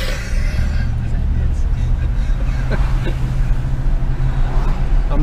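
A 1973 Lincoln Continental Mark IV engine idles with a smooth, steady low rumble close by, while voices talk over it.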